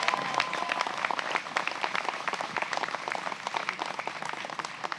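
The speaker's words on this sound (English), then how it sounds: "They all deserve a round of applause." An audience at an animal protection event gives a round of applause, with steady crowd clapping at a moderate distance that holds evenly from start to finish.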